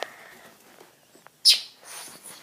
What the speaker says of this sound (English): waking up to the sound of a bird chirping